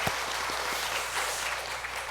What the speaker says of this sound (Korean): 우리 다시 한번 하나님께 감사의 박수,